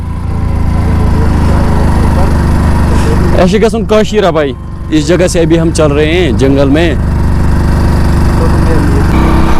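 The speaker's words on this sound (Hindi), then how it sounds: "तो भाई लोग पहली बार मैंने स्प्लेंडर बाइक चलाई।" A Hero Splendor motorcycle engine runs steadily as a low, continuous drone throughout the ride, with someone talking over it midway.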